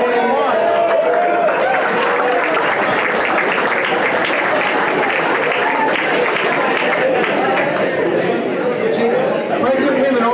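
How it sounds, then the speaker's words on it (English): Audience applause mixed with crowd chatter at a Christmas Classic Tip-Off breakfast event, a steady loud wash of clapping and voices lasting throughout. "Pregnant women always get applause no matter what."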